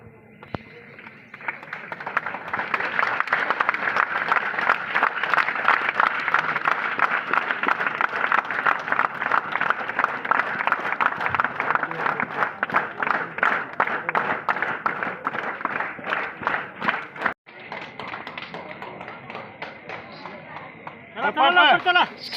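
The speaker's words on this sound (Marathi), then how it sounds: "सर्वांनी जोरात टाळ्या वाजवायच्या आहे" Audience at a retirement ceremony breaks into loud, sustained applause lasting about fifteen seconds, dense rapid clapping that cuts off sharply and resumes briefly near the end.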